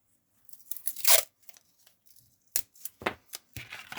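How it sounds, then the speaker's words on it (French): Adhesive tape is pulled and torn off in several sharp, close ripping bursts, with short pauses between pulls. "je mets du scotch pour que ça tienne bien"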